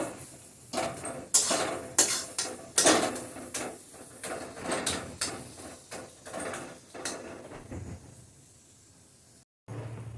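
Potol mixture being stirred and fried in a kadai, a spatula repeatedly scraping and knocking against the metal pan in loud, irregular clanks over a faint background sizzle, close and alone without talk.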